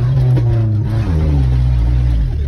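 A 1997 Nissan engine revs hard while off-roading, a loud close droning growl that rises and falls in pitch with a brief dip partway through.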